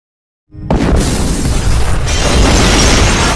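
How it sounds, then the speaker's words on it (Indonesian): A house blows up in a film scene: after half a second of silence a loud, sudden blast erupts and rolls into a sustained roaring, crackling rumble of fire and debris that stays loud to the end. "Vijay meninggalkan rumahnya yang meledak bersama Mitra dan ibu Vijay yang tidak selamat"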